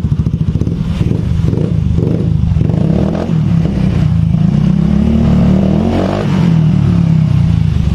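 A 2019 Honda Beat scooter engine runs steadily right after a kick start, a close, loud, even putter with a rapid rhythmic pulse and some mechanical clatter, with no talking.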